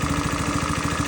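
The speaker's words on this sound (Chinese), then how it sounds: "听听发动机的状态" A Yamaha Jog scooter engine, freshly repaired after a persistent abnormal noise, idles close by with a steady, even putter and a fast regular pulse, no voices over it.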